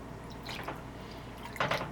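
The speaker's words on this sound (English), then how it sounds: "So now I'm going to pour in the 4 cups of chicken broth." Chicken broth pours into a cooking pot in short, soft liquid splashes and drips, quiet and close with no talking.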